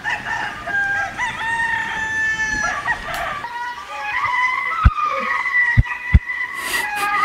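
Reconstructed audio of a bird, with bright warbling and chirping calls in a slightly artificial, processed tone, fairly loud, broken by a few sharp clicks.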